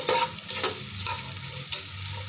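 Whole spices such as green and black cardamom, bay leaf, cinnamon and cloves are stirred as they fry in a pan. A steady sizzle runs underneath, broken by scraping strokes of the spoon in an irregular rhythm, close and fairly quiet.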